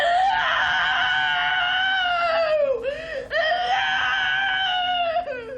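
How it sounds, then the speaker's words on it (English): A person screams long and loud in a primal therapy session, sustained wailing cries that break briefly and resume, close and intense, alone without speech. "primal therapists encourage their patients to release what they call blocked or buried energy. Usually, this is by screaming."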